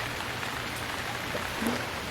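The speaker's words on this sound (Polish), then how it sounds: "Nie wiem co mnie prześladuje na tej wyspie, że non stop pada deszcz." Steady rain pours down in the survival video game Stranded Deep, set on an island, as a continuous soft hiss that fills the short stretch with no talking.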